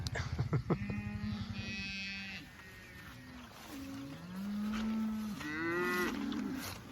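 Cattle in a grazed pasture moo repeatedly beside a small stream. The calls are long and low, some nearby and some farther off, and they overlap one another over a steady outdoor hiss.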